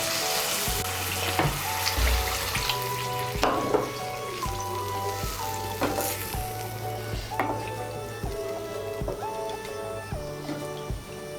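Water is added to a pan of fried mung dal, and the pan hisses with a steady broad sizzle while repeated clinks and scrapes of a utensil against the pan run through it.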